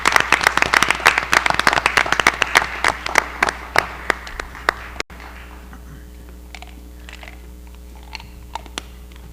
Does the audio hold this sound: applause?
yes